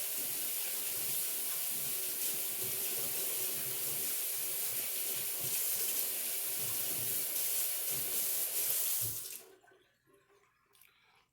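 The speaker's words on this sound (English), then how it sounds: "wash your hands 8 million times" Hands are washed under a running water tap, a steady close hiss and splash of flowing water with the rubbing of hands beneath it, stopping abruptly near the end into near silence.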